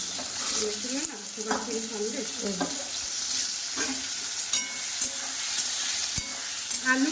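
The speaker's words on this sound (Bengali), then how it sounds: "সোয়াবিনটা ভালো করে ভেজে নিয়ে আসছি" Soybean chunks fry in a pan with a continuous crackling sizzle, broken by repeated spatula scrapes and knocks against the pan, while a voice talks over the cooking.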